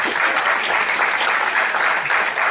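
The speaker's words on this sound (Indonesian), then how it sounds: "Tepuk tangan dulu buat Anda semua ya." Dense, steady applause from a seated audience at a business talk, continuous and fairly close with no voices over it.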